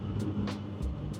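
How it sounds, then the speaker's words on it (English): A Honda K24-swapped BMW E36 on the move gives a steady, close, low engine rumble, with a few brief airy whooshes riding over it. "So I hope you can actually hear what the car sounds like."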